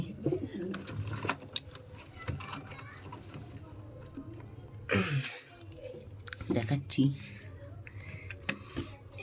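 Domestic pigeons at their nest, one sitting on eggs, cooing softly and close with rustling and pecking, under a person talking throughout.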